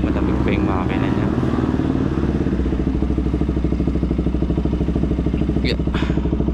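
A KTM RC200 motorcycle engine runs steadily and close by, with a loud, even low rumble throughout and some clattering and brief voices over it at a fuel stop.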